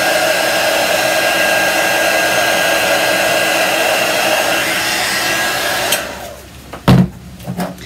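Steady loud whoosh of a heat tool blowing hot air to dry paint on a design transfer, running close for about six seconds before cutting off, followed by a few light clunks as it is set down.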